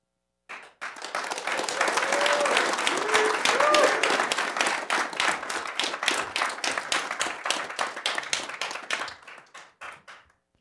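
Audience at an Albuquerque City Council meeting bursts into applause, a dense mass of clapping that swells, holds, then thins into scattered claps before stopping, with a voice briefly audible underneath.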